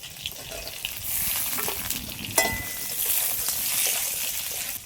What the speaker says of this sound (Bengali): পটল ভাজাটা কিন্তু প্রায় হয়ে গেছে